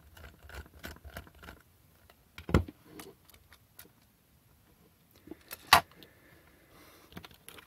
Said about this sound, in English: let's pop it open. Four screws in the back.